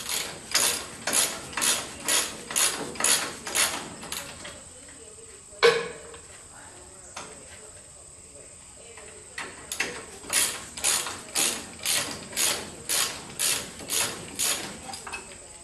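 An air ratchet rattles in quick bursts while taking off a front brake caliper with the pads still in, two long runs of rapid clicking close by separated by a quieter pause with a single clank.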